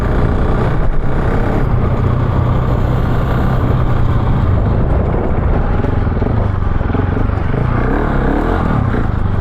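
A GasGas 700 motorcycle being ridden, with a loud, continuous engine drone and heavy wind rush at close range that stay steady the whole time.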